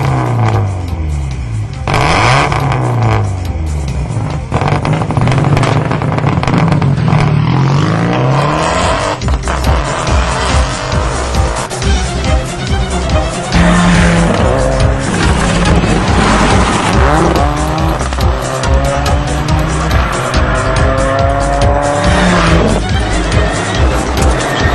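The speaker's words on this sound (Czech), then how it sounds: "Tohle, co mi dělá kravál pod nohama, tak to je Subaru Impreza." A Subaru Impreza rally car roars close by with repeated hard engine revs, rising and falling drive tones and sharp tire squeals, loud and sustained throughout.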